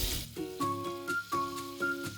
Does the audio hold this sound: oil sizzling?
yes